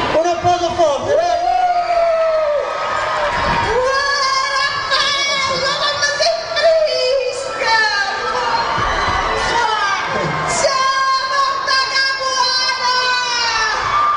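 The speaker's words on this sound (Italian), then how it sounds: "Un applauso forte, dai!" Concert audience at Piedigrotta 2008 cheering and clapping loudly and continuously, with shouting voices and music mixed in throughout.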